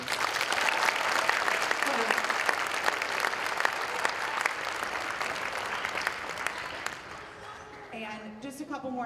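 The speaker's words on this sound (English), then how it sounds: "If you could give them a round of applause, please." Audience at a 5th grade band performance applauding after the players are thanked, dense steady clapping that slowly thins toward the end, with a voice starting to speak over the last moments.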